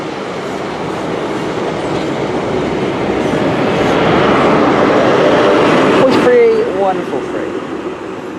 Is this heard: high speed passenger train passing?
yes